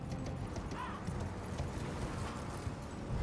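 Steady, rapid hoofbeats from the spectral horse Torrent galloping in Elden Ring, an even clip-clop under a continuous rumbling background at moderate loudness.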